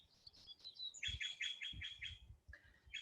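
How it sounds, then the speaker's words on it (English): Birds chirp and tweet in quick bright bursts, a run of repeated notes in the middle, set against a quiet room with faint low rumbles. "sometimes birds sound so peaceful and it's nice"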